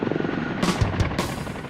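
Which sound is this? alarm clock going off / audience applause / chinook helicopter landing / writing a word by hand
chinook helicopter landing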